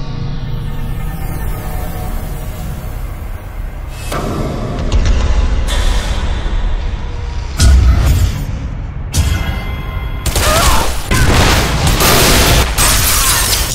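Heavy machine gun fire in the shooter game Bodycount, loud sustained bursts of rapid gunfire with booming impacts, alternating with short quieter gaps between volleys.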